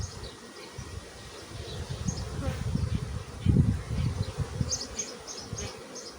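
Honeybees buzz steadily around an open hive during a spring expansion with a wax foundation sheet, a dense close drone that swells midway and carries on throughout.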